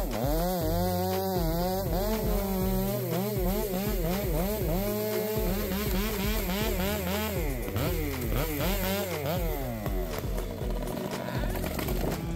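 A Stihl 044 chainsaw engine revving up and down repeatedly as it cuts through fir tree trunks, loud and close, with a rising and falling buzzing whine.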